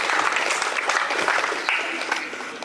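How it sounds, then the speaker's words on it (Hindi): Loud, sustained audience applause at an employee award distribution function, a dense wash of clapping that holds steady for the whole stretch and tapers slightly at the end. "जोरदार तालियां सांगी सेंटर के लिए।"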